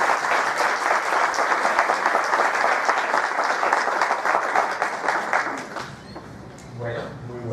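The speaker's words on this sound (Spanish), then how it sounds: "Demos un fuerte aplauso y agradezcamos la presencia" A lecture audience gives a sustained round of applause, dense and steady for about six seconds before tapering off into scattered claps and room noise.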